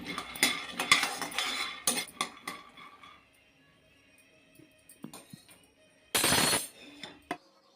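Groundnuts dry-roast slowly in a pan while being stirred for groundnut chikki. Bursts of rattling and clinking come in clusters, then quiet stretches with only faint scrapes, and a final loud rattling burst near the end.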